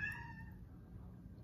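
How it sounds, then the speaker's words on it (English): A cat begging for food in a home kitchen gives one short, clear meow right at the start, then falls quiet over a low background hum. "Why did this cat just jump up here?"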